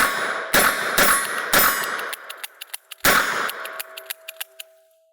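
A revolver fires four loud shots at a steel plate target, each followed by a ringing metallic ding, with smaller pings and clinks trailing off afterward.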